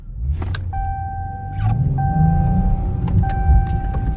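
A 2020s Dodge Charger GT pulls away in first gear, its engine rumbling low and swelling in loudness, heard from inside the cabin with a faint electronic chime tone over it.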